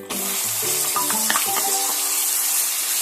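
Garlic, tomato and chilli sizzle in a pan for a bachelor-style chicken gravy as a spoon stirs them, giving a continuous close hiss of frying broken by brief scraping strokes.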